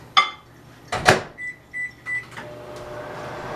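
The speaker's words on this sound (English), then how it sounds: "I'm going to put a little bit of water in my microwave" A home microwave oven holding a little water to be warmed: a door thud, then a run of three or four short, bright keypad beeps, close and fairly loud in a quiet kitchen.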